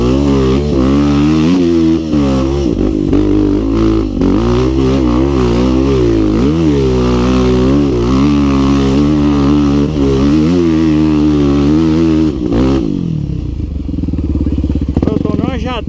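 Motorcycle on a dirt trail ride, engine note rising and falling through repeated throttle changes, loud and close over wind, with a voice talking now and then.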